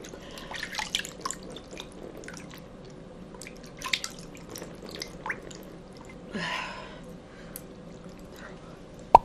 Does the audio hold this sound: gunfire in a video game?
no